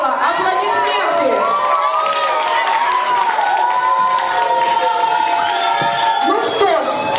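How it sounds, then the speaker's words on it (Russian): A young audience at a 2008 children's quiz show cheers and shouts loudly and without a break, with overlapping excited voices and only faint clapping. "Аплодисменты."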